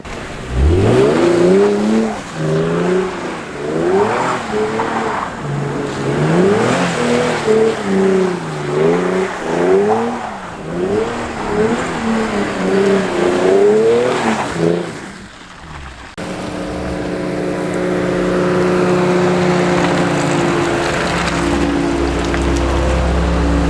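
Infiniti G35 driving through snow with repeated engine revs rising and falling in a rhythmic pattern, loud and close, then a steady droning engine note with rushing road noise.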